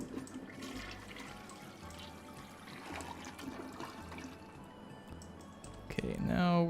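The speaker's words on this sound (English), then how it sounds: "now we're going to flush it." Toilet flushing close up, with running and trickling water building into a loud rushing surge near the end; muffled talking can be heard under it.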